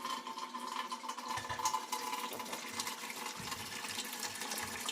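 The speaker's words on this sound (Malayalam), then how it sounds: "ഇനി നമുക്ക് അപ്പച്ചമ്പിൽ കുറച്ച് വെള്ളം പിടിക്കാം" Water runs steadily into a steamer pot from a tap, a continuous filling gush with a faint rising tone, close and moderately quiet, no voices.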